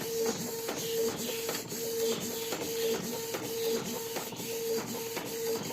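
A Canon iP2770 inkjet printer modified for DTF printing runs a print job, its carriage shuttling in a steady repeating rhythm of whirs and clicks with a whining motor tone, close and continuous with no talk.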